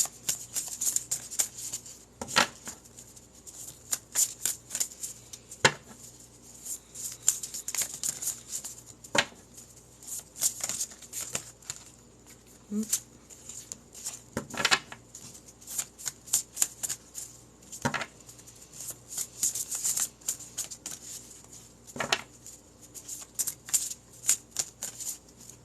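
A deck of cards being shuffled over and over, repeated riffling bursts with soft handling and tapping between them, close and fairly quiet, no talking.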